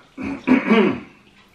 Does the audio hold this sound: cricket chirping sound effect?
no